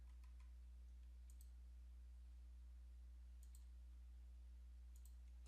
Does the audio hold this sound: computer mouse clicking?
yes